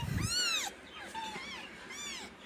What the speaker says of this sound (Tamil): இந்த கருப்பு பூனை பாருங்க, சுத்த கருப்பு,